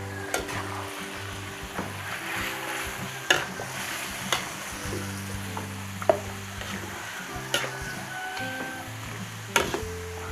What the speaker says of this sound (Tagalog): Haluin lang po natin maigi.